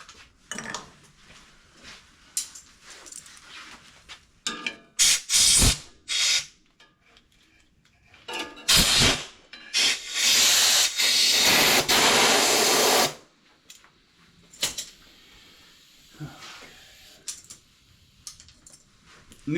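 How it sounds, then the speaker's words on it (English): Compressed air blasts through a John Deere X300 riding mower carburetor during a cleaning, coming in several loud, hissing bursts of a second or more, with clicks and handling noises of small parts between them. "I'll use some compressed air to finish it"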